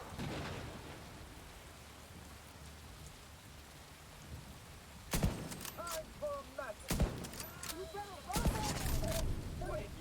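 Sniper rifle shots in The Division 2 ring out as a few sharp, loud cracks in the second half, each with a ringing tail, over a steady rain-like ambience.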